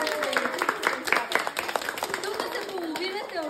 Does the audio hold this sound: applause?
yes